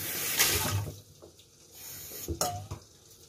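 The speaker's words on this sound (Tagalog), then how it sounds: "Lagyan natin kunting tubig" Water splashes and trickles into a pot of dinuguan, with light metallic clinks and stirring sounds nearby.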